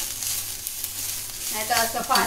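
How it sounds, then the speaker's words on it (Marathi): Malvani masala of onion, coconut and garlic roasting in a pan, a steady sizzle with stirring scrapes that grow louder near the end, close and continuous with no talk. "होईपर्यंत ह्या आपण वाटप भाजून घेऊया"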